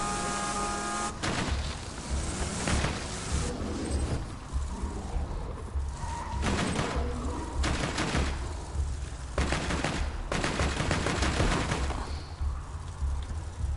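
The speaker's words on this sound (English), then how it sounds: "Usually I go for rockets, but this time I'm gonna use the machine gun." Machine gun turret on a vehicle in the video game Borderlands 2 fires in several loud bursts separated by short pauses, over a steady game background of engine and ambience.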